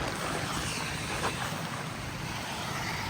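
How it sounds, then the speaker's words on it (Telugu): Heavy rain pours down in a dense, steady hiss at a campsite, constant and unbroken, with no voices. "వర్షం ఇట్లా పడుతుంది"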